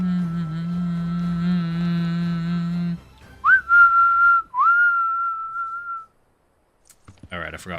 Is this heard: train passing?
no